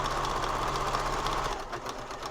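A sewing machine stitches a braided boho bag, a rapid steady mechanical whirr of needle strokes that runs loudly and then slows and softens near the end.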